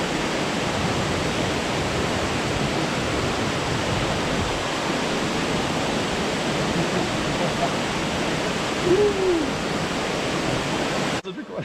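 The SYM NHT en Vrede Waterfall pours in a steady, loud, broad roar of falling water that never lets up, with a brief voice at the very end.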